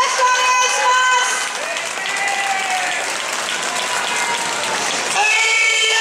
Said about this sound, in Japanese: さて皆さん、本当手拍子足拍子よろしくお願いします。